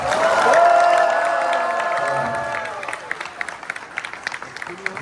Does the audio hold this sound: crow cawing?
no